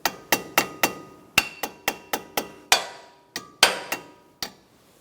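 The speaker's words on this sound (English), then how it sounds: "Sometimes I give them a little tap" Front brake caliper parts on a 2012-2019 Fiat 500 being tapped into place, about fifteen sharp close metallic knocks in an uneven rhythm, each ringing briefly before fading.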